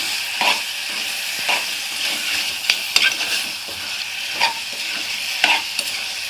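Ginger garlic paste sizzles steadily in hot oil in a pan for a mutton and chicken curry, with a spoon scraping and stirring in regular strokes about once a second. The sound is close, with no talking.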